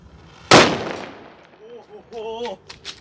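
A big bullet firecracker, a Diwali-style cracker called an anar bomb, goes off with one sharp, loud outdoor bang that decays over about a second, followed by brief voices.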